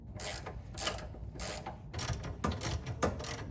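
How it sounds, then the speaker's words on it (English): A hand ratchet clicks in quick repeated bursts while 18 mm sway bar bolts are loosened on a C5 Corvette, close and moderately loud with short pauses between strokes. "So now we're just going to unbolt the sway bar."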